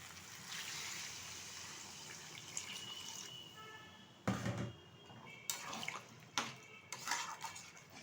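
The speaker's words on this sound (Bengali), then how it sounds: "এখন দিয়ে দেবো পরিমাণ মতো জল।" Water poured into a pot of browned chicken for a thin curry, a soft steady trickle followed by splashes and a few sharper clanks, faint and close.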